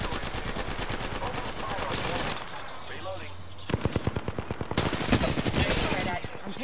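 Rapid automatic gunfire from Apex Legends combat, bursts of fast repeated shots that pause briefly then resume with loud, punchy volleys, with voices talking over the fighting.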